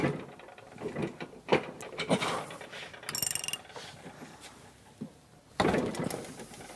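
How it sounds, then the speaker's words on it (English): An impact wrench or air wrench works loose the tight crankshaft nut on a small engine during an overhaul, with a series of uneven close rattling and clanking bursts and a loud final burst near the end. "If you have an air wrench or an electric impact, this is the place to use it."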